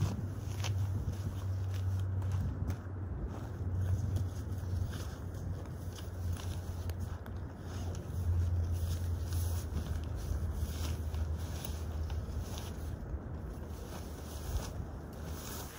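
A Snow Peak Alpha Breeze tarp flaps and rustles steadily in the wind, with a low rumbling gusty background throughout and no talking.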